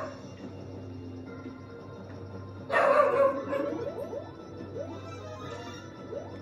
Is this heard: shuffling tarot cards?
no